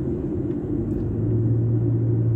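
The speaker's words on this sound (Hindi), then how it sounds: "चलो मैं आपको रोड का दिखाता हूँ, मतलब कि यहाँ पे रोड कितना ट्रैफिक होता है" Steady low rumble of road traffic in Kuwait, with engine drone building toward the end as vehicles pass close by, continuous and fairly loud.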